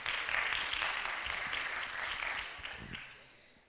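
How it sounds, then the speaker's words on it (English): Audience applause for an artist being introduced at a talk, a dense broadband patter that fills the room and then tapers off over a few seconds. "Vous pouvez applaudir."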